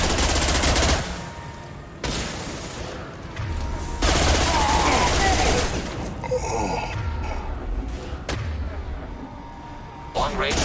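Video game gunfire in Mod Effect 2 erupts in bursts of automatic shots and heavy booming blasts, loud and close, pausing briefly between volleys, with a game voice speaking over parts of it.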